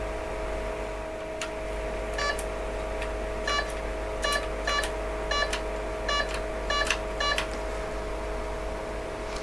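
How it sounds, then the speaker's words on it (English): An HP9845B computer under repair gives a series of short, sharp beeps at irregular intervals as keys are pressed, over a constant low electrical hum and fan noise. "see if we can get it to beep in response to a key press"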